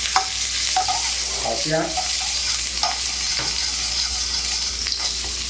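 Shredded ginger sizzles in sesame oil in a hot wok over high heat, a dense continuous crackle with scraping stir strokes throughout, and a brief spoken remark over it.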